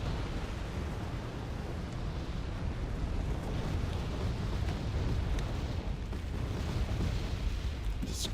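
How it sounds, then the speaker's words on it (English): Artillery barrages in the battlefield game Wargame: Red Dragon form a dense, continuous distant rumble of overlapping booms, steady and muffled across the whole stretch, with no voices. "Just constant artillery barrages back and forth."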